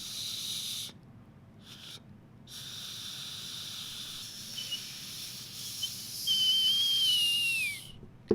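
A bird whistle blown in the mouth gives a thin, faint breathy hiss, then near the end a brief high whistled note that slides downward, close and quiet with no talking.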